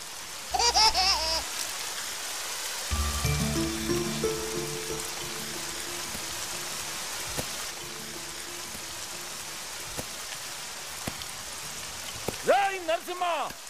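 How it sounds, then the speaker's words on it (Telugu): Steady rain falls during a Telugu film scene set around farm fields: a constant broadband hiss of drops runs throughout, mixed with background music and some faint voices. "వాన వచ్చేసినట్టే ఉన్నది, ఆగినట్టు లేదు"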